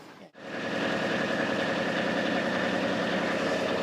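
After a brief silent gap, a canal narrowboat engine settles into a steady low idle, a constant rumbling throb with a faint knocking rhythm.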